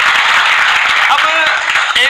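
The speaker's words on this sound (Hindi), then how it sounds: "इसके लिए एक बार ताली मेरी तरफ से।" A short, loud round of applause for a student selected to the Delhi Police rings through a classroom, a close, hissing patter of many hands clapping at once.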